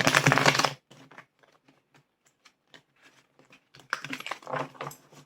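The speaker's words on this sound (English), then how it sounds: "I'm having a hard time shuffling these today." Crisp papery riffling and snapping of tarot cards being shuffled, loud bursts at the start and end with quieter soft taps and shuffles in between.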